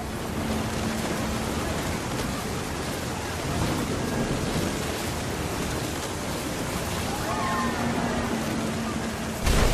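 Wind and sea waves on a lonely beach in a video game setting, a steady, broad roar of surf and gusting air, constant and enveloping, with a faint tonal hum beneath.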